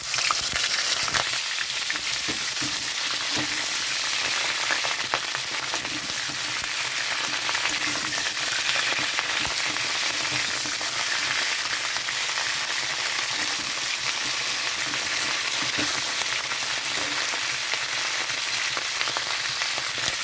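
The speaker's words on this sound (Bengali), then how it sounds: "কড়াইতে সর্ষের তেলটা গরম হয়ে গেছে। তো এখানে আমি দিয়ে দিচ্ছি ভাজার জন্য" Cauliflower florets frying in hot mustard oil in a wok, a steady, loud, dense sizzle that holds evenly throughout with faint stirring clicks and no talk.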